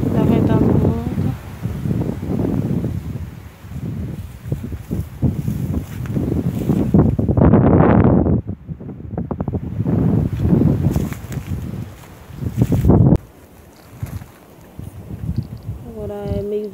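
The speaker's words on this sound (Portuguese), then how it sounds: "Tá ventando muito." Strong gusts of wind buffet the microphone in heavy, rumbling bursts, with occasional brief lulls.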